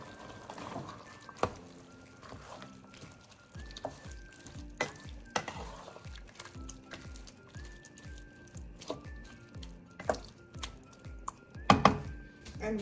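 Soup ingredients with fire roasted tomatoes stirred in a pot, a series of soft rhythmic scraping and clinking strokes over a faint simmer, with background music tones.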